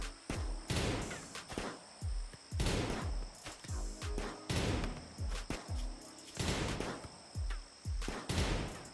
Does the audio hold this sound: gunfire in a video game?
yes